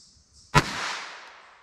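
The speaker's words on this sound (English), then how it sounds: "first up, we have our 22 pistol. Let's see what kind of velocity we can get with this." A single sharp report from a .22 pistol firing a 45-grain round cracks out loud and close, followed by a decaying echo tail in otherwise quiet surroundings.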